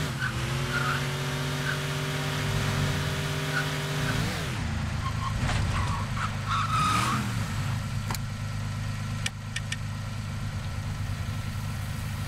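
Car driving in Scarface: The World Is Yours, the engine revving and dropping in pitch, then tires squealing and skidding with a few sharp knocks, fairly close and steady, with no speech.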